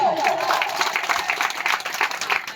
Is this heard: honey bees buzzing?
no